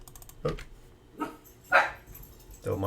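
A puppy gives four short, sharp barks spaced about a second apart, close to the microphone, over a quiet indoor background with a voice.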